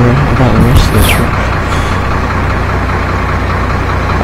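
Freightliner Coronado truck engine idling in Euro Truck Simulator 2: a steady, loud low rumble holds throughout, with brief higher whines near the start.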